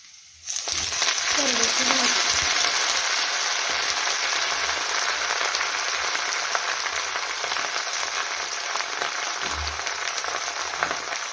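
Garlic fries in hot oil in a pan for safflower greens, a steady broadband sizzle that holds evenly for about ten seconds after an abrupt start, close, with a few faint knocks and no talking.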